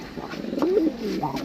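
A pair of giribaz pigeons kept in a basket for sale give a close, soft rolling coo, with a second shorter coo following, over faint background noise.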